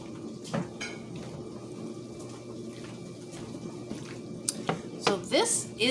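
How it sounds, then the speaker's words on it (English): Metal pots and pans clinking and clattering on a stove as a cook switches to a smaller pan, a few sharp knocks and scrapes under a faint running-water hiss, with a person talking. "So we're going to swap to a smaller pan"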